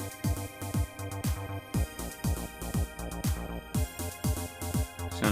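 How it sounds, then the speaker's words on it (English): A Roland JD-Xi synthesizer sequence plays a chorus backing track for a cover song, with a punchy repeating bass-drum pulse under sustained synth chords, steady and even throughout. "So you can hear the first part of the sequence playing in the background."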